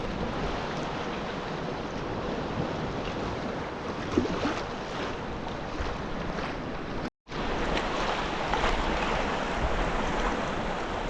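A small wave washes past a kayak at sea, making a steady, broad rush of water and wind noise throughout, close and continuous, with a brief dropout partway through.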